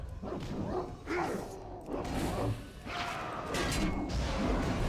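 A giant dog boss in World of Warcraft, Kel'Thuzad in the Naxxramas raid, giving repeated loud barks and snarls amid combat thumps and crashes.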